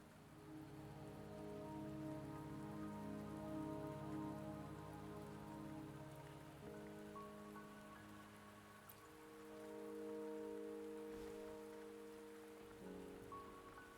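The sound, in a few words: rain in video game Wuthering Waves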